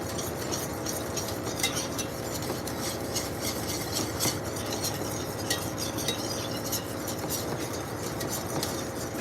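A spoon stirs milk into a mushroom truffle mac and cheese sauce in a pot: faint, steady scraping and clinking continues for about nine seconds without speech.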